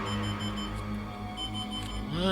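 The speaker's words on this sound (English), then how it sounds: "Apparently when I reset the daylight savings time, I somehow turned on the alarm clock." An alarm clock, switched on by accident while resetting it for daylight saving time, beeps in a room beneath layered game music and tones, a faint repeating pulse sitting under the louder sustained sound.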